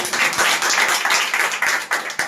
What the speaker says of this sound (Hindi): आइए ताली बजाकर अपने परमेश्वर को धन्यवाद